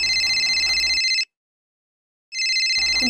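A mobile phone rings with a bright electronic ringtone in two loud bursts separated by about a second of silence, with faint room noise beneath.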